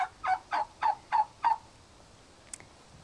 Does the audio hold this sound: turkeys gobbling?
yes